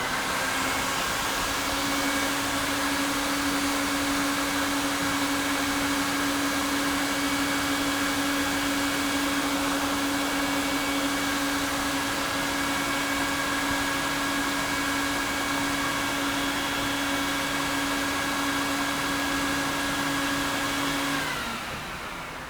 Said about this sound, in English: The vacuum extracts all the water that is on the rug